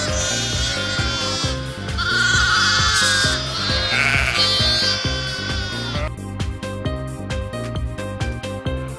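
Several sheep and lambs bleat loudly and repeatedly, overlapping calls near and far, over a steady rhythmic musical beat.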